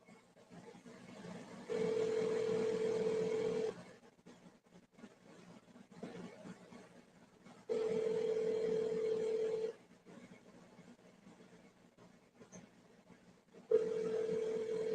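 Telephone ringback tone on a call, three long steady buzzing rings separated by pauses of silence, clear and alone with no talking.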